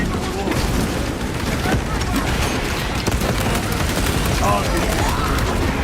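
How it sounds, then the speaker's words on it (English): A frag grenade blast in the video game Space Marine 2 lands amid dense, continuous battle noise with rapid gunfire, loud and close, with a voice speaking faintly underneath. "Frag grenade deployed."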